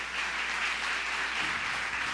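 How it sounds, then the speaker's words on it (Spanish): An audience applauding steadily to welcome a speaker at a morning youth gathering, a continuous wash of clapping heard from some distance, fairly soft and even. "yo quiero que recibamos a Emanuel Pérez con un fuerte aplauso esta mañana"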